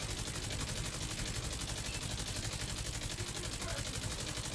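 A light machine gun in The Division 2 firing without pause, with rapid, evenly spaced shots packed into a loud unbroken rattle throughout.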